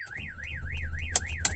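The alarm on a Mercedes Vito van sounds a loud, steady warbling siren that sweeps up and down in regular cycles, with a couple of sharp clicks near the end.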